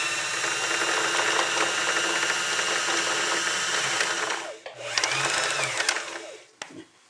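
An Elna 318 sewing machine winds a bobbin with a loud, steady motorized whir that runs for several seconds, stops briefly, resumes, then ends with a small click.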